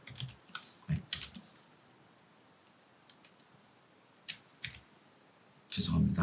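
A computer keyboard clicks in a few short, close bursts of typing separated by quiet gaps, with brief speech in between.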